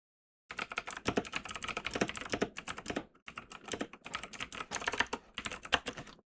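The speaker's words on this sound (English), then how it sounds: "Furious typing." Fast, furious typing on a computer keyboard: dense rapid key clicks in two bursts separated by a brief pause, close and clear, with no talking.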